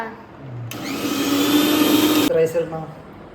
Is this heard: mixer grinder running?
yes